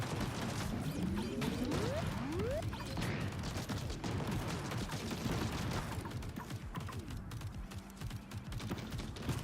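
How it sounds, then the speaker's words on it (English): Missile launcher firing in the video game TerraTech Legion, a dense steady barrage of rapid mechanical popping shots with rising whooshes of launched missiles, continuous and fairly loud throughout. "We've got a freaking missile launcher now, man."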